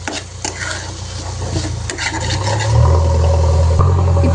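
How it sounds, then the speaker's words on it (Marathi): Bharit, a mashed roasted eggplant dish, being mixed with red chilli powder and salt, giving close scraping and rubbing strokes of a spoon against the vessel over a low steady hum. "छान मिक्स करून घेऊ"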